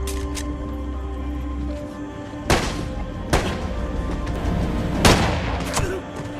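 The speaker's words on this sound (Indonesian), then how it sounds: "menembak ke sembarang arah sebagai pengalihan" Gunfire in an action film scene of a sniper fighting a cartel: three sharp, loud shots spaced a second or two apart over a steady low hum, with no talk.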